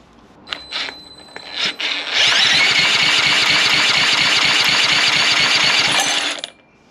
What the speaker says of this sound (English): Right, that's not firing, so let's check the spark plug.